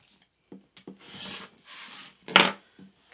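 A few short scraping and rubbing strokes as a quilt's fabric edge is trimmed, with faint close rustles and one louder rasp near the end, no talk.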